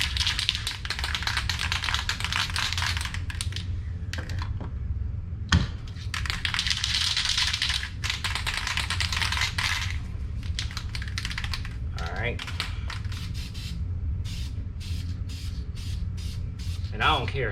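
A MetalCast spray paint can being shaken and sprayed, with broadband hissy bursts and rattling across most of the stretch, close and steady, punctuated by brief taps and occasional speech.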